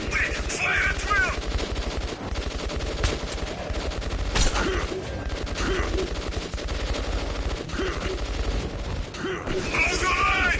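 Sustained gunfire in the Metro game, dense machine-gun bursts and scattered single shots rattling continuously with mechanical clatter, loud and close throughout.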